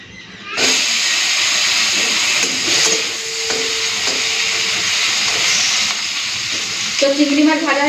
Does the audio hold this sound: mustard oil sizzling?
yes